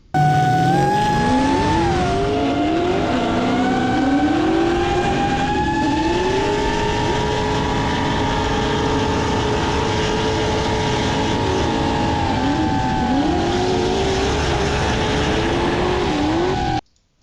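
A drift car at a pro-am drifting competition runs a lead lap, its engine roaring loud and steady for the whole stretch, pitch rising and falling with throttle shifts before cutting off at the end.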